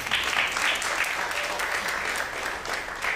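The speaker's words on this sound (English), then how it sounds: "A big round of applause for all the parents." Applause from an audience at a Carnatic music Aradhana event in the tri-state area, a steady dense wash of clapping hands sustained throughout at moderate loudness.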